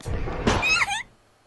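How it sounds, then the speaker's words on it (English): A sliding classroom door in the Corpse Party horror game gives a loud, dull thud with a rumbling low end, followed by a short squealing scrape, then silence. "It was a loud, dull thud followed by silence."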